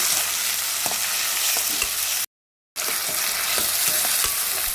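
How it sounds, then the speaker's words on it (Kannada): Tomato frying in oil with onion for an egg curry, a steady close sizzle with faint stirring clicks, broken by a short silent gap midway. "ಸೊ ಒಂದು ಟೊಮೊಟೊನ ಹಾಕಿ ಸೊ ಇದು ಕೂಡ ಫ್ರೈ ಮಾಡ್ಕೊಳ್ಳಿ"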